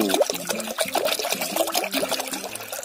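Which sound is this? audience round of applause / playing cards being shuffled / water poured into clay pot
water poured into clay pot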